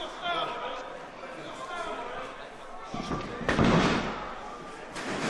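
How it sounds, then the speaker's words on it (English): A wrestler's snapmare takeover slams an opponent onto the mat in a Sacrifice Pro ring bout: one heavy thud amid steady crowd murmur, with commentary running underneath. "Snapmare takeover from Roy Johnson"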